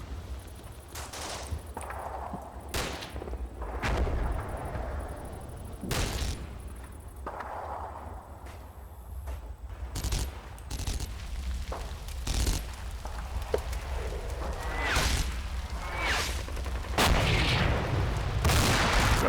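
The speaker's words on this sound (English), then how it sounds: "Got artillery coming down when it's off target." Artillery fire in the Normandy wargame Combat Mission, a string of sharp distant blasts and booms scattered irregularly over a low rumbling battlefield bed, some louder and closer toward the end.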